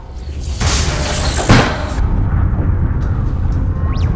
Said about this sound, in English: Some sort of explosion in the airlock.